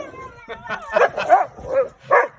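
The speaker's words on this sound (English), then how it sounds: "That is a really happy dog." A happy dog gives a string of excited yips and barks, close and lively, with playful whimpering between them and no talk over it.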